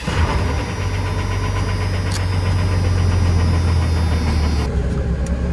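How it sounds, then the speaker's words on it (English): A 1997 Dodge Ram with a Cummins diesel engine runs steadily, a loud, close, continuous low rumble with a rattly knocking texture that persists throughout, with no voices over it. "we're going to turn the engine on and see if it works."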